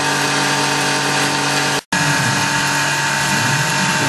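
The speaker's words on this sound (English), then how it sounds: "The machine is milling the clearance pockets right now." A Tormach PCNC 1100 CNC mill cuts clearance pockets in a fixture plate, a loud steady whine of the spindle and cutter running close, broken by one sudden momentary dropout.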